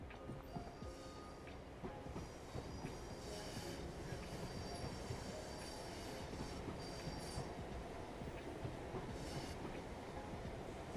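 A train rolls into a platform in Train Sim World 6 on the West Coast Main Line Trent Valley, a steady rumble of wheels and rail with squealing wheel tones rising above it, loud and continuous throughout.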